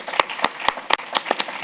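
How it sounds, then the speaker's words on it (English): Applause from an audience at a policy event, sparse and uneven claps rather than a full ovation, fairly close and loud, with no talking. "Please, a round of applause."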